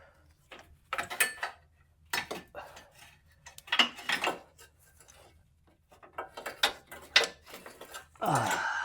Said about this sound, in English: So I'm gonna reach in with my little wrench, keep undoing it, and we'll be able to pull the hose out.